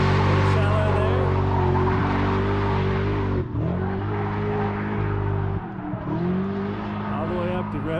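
A drift car's engine screams at high revs, climbing up to and bouncing off the rev limiter during a drift competition qualifying run, with sustained harmonic whine, brief cuts at the limiter, and a commentator talking over it.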